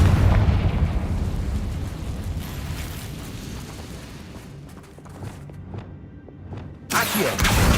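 Confringo blasting spell in Hogwarts Legacy gameplay, a heavy booming explosion with rumbling low-end decay and scattered crackles, followed by a second loud burst near the end.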